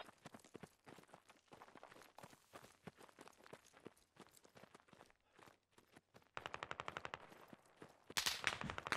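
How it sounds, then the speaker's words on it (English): Rapid bursts of automatic gunfire in the military shooter game Squad, sharp cracks rolling out in quick strings, with a denser, louder volley at the end. "Negative, not friendly fire, sorry. Enemy fire from radio?"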